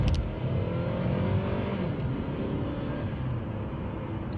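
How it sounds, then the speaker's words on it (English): A 2014 Hyundai Sonata GLS with a 2.4 engine accelerates on a wet road, its engine note rising steadily under continuous tyre hiss and road roar from inside the cabin. "Let's do a little acceleration."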